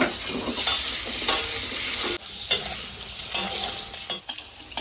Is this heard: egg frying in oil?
yes